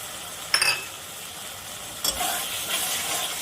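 Spice paste with ground turmeric sizzling in a pan for a bhetki fish and potato curry as a little water is poured in, two sharp hissing bursts followed by steady frying crackle and occasional utensil clinks.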